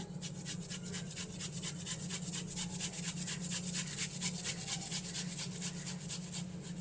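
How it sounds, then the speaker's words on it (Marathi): Boiled potatoes are grated by hand, giving a close, steady run of rhythmic rasping strokes at a brisk even pace over a low background hum, with no talking. "इथे मी चार बटाटे उकडून घेतलेले आहेत तर ते आपण किसून घेऊया"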